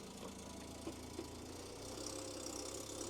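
A BMW engine idles in a workshop with its timing chain rattling, a steady mechanical drone with a loose metallic clatter and a couple of faint knocks standing out, no one speaking over it.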